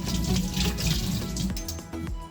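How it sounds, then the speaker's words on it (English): Tap water runs steadily into a kitchen sink as onions and a knife are rinsed, a close, continuous splashing rush for a couple of seconds with a brief shift in the flow near the end. "I'm gonna rinse them again together with the knife."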